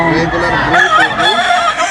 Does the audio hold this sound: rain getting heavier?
no